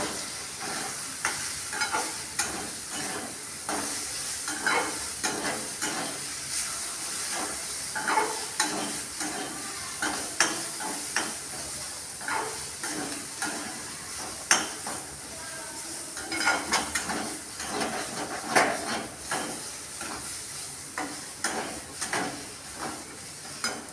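Garam masala and spices are stirred in a hot pan: repeated metal scrapes and clinks of the spoon over a continuous sizzle, rhythmic and close for the whole stretch, with no talking.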